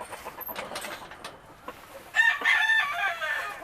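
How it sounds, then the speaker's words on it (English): Hens cluck and murmur nearby, then a rooster crows loudly, its call rising and trailing off over the continued clucking. "Here's the rooster."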